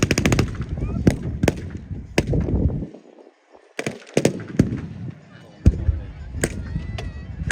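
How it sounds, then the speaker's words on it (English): Sharp, loud shots from a 6-pounder anti-tank gun firing blanks crack out one after another at uneven intervals, each with a short echo, mixed with distant shooting at a 1940s battle reenactment. "they're going to use their 6-pounder to fire a few shots"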